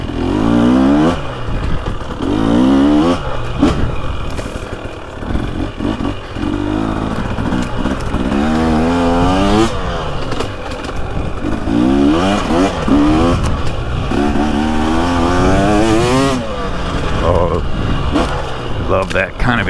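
A 2023 Husqvarna TX300 Heritage Edition two-stroke dirt bike rips through off-road woods, engine revving up and down in repeated rising bursts, loud and close, with a rider talking over it.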